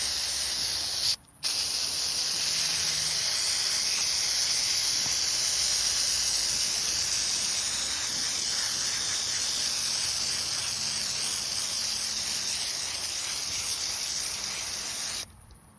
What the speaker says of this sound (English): you spray this thoroughly through it, inside and out, and then you let it wait 15 minutes